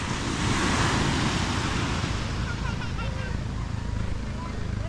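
Sea waves wash on a shore in a steady, broad roar with wind noise, fairly loud and continuous, while faint chatter and voices from people nearby sit underneath.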